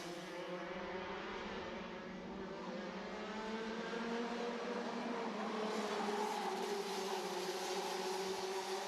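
Racing karts run on the Kandava kart circuit with engines whining steadily, their high buzzing tones shifting and rising together as the pack moves along, loud and continuous throughout.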